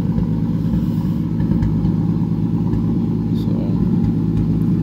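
A car with a straight pipe exhaust idles close by, a loud steady low rumble that holds even throughout with no revving.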